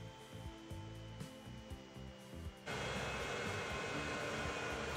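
A plane in the transport-simulation game Transport Fever 2 gives off a steady engine roar that starts abruptly partway through and stays loud and even over low game ambience.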